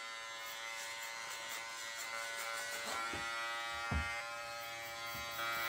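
An electric hair clipper runs while hair is cut over a comb, giving a steady, close, continuous buzz with a few faint snips and knocks and no talk.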